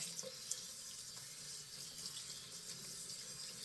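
Tap water runs steadily into a sink as a shaving brush is rinsed, a faint, continuous splashing flow with no talk.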